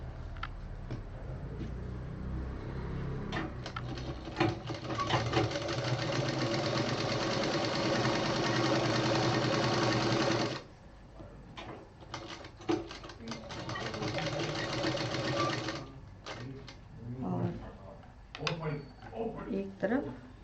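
A sewing machine stitches fabric for a foldable hanging pouch, running in a long continuous burst, then stopping and restarting in shorter runs, with a voice talking in between.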